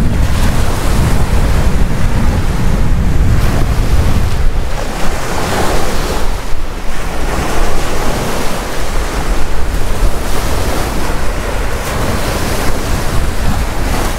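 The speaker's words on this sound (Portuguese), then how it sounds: "Aqui é o barulho da lagoa" Lagoon water laps and washes continuously against an empty beach on a cold late afternoon while gusty wind buffets the microphone, steady and fairly loud with no voices.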